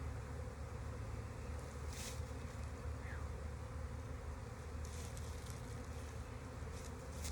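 Honey bees buzz steadily and close around hive comb during a messy comb transfer, a dense continuous hum with no voices.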